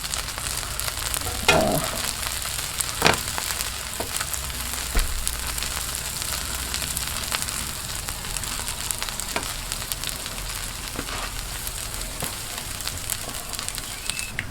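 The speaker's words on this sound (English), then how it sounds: "I'm going to go ahead and start browning these buns as well." Steady frying sizzle from buns browning on a Blackstone flat-top griddle for a breakfast sandwich, a continuous close hiss with occasional sharp pops and scraping clicks, no talking.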